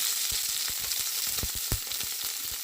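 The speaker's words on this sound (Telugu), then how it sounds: "ఆయిల్ ఫ్రై అయింది. ఇప్పుడు ఫస్ట్ జీలకర్ర, ఆవాలు అండ్ పచ్చిమిర్చి," Cumin, mustard seeds and green chillies tempering in hot oil for a ridge gourd curry; a steady close sizzle with frequent small pops and crackles, no voices.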